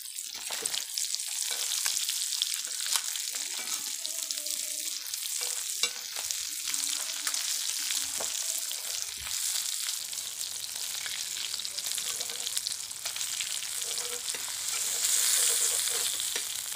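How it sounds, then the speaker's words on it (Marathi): Mackerel pieces fry in hot oil, a dense, continuous hiss of crackling sizzle close up, with a few soft pan sounds early on and the frying running steadily to the end. "म्हणजे पटापट असे मासे भाजून येतात."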